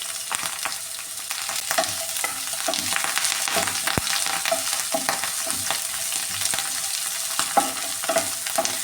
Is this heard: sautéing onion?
yes